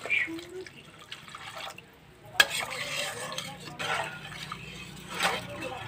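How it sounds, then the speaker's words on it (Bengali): Bhola fish curry with mustard and turmeric is stirred and fried in a pan, with soft scraping, bubbling and low sizzling close by and a sharp scrape partway through, under occasional low talk. "ভালো করে কষিয়ে নেব।"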